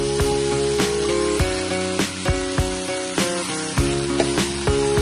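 Large halved prawns sauté for an era thokku in a hot pan, giving a loud, continuous sizzle with repeated stirring scrapes, and tonal music underneath.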